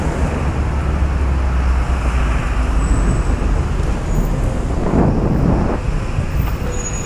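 Steady roar of car traffic flowing past a city bike lane near the Zócalo and 20 de Noviembre, a continuous broadband wash of engines and tires with a louder vehicle swelling by midway.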